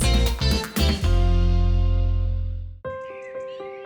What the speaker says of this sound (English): The sound of the birds woke Mr. Fox up.